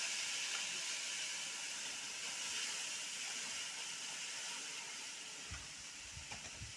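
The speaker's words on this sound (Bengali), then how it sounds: "আমি এবার তেলে আমি কালো জিরে ফোড়নে দেব" Black cumin seeds sizzling in hot oil while tempering for a banana-flower kofta curry, a steady close hiss filling the whole clip with a few louder crackles near the end, no talk.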